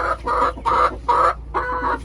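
Backyard hens in a coop give four quick, close clucks in an even rhythm, each a short loud burst separated by brief pauses.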